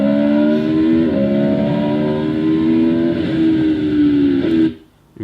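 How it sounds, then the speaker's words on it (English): A racing motorcycle labours at low RPM climbing a hill at Donington Park, giving a loud, steady, droning engine note with slight pitch wobbles that runs unbroken before cutting away sharply near the end; no voices. "you can hear now the bike's labouring really low in the RPM"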